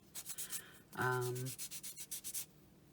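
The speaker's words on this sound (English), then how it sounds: "just using these nail files. I'm just going to take any burrs off the edges." Nail files rubbed over the edges of a faux hammered metal pendant to take off burrs, giving a series of short, quiet rasping strokes in quick rhythm, broken by one longer, harsher scrape.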